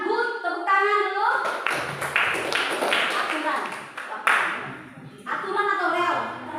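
Students in a classroom clap together for a classmate's correct answer, a short lively burst of claps that starts after a voice and gives way to more talking.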